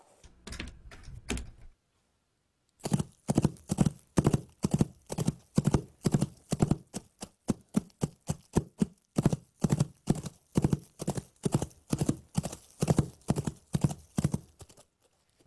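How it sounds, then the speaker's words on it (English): Foley hoof props struck in a steady clip-clop rhythm for a horse walking past camera on grass, close and crisp, after a brief burst of quicker taps and a short pause. "so I just laid down the horse footsteps"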